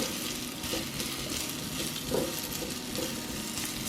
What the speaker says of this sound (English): we're gonna go ahead and get this sauteed up